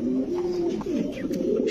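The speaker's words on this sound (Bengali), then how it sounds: "এত বড় কবুতর, এটা কি কবুতর ভাই? এটা এক্সিবিশন মিলি, সিলভার মিলি এক্সিবিশন।" A large silver Mili exhibition pigeon coos close up, a deep throaty rolling call repeated in quick swelling phrases with no talk over it.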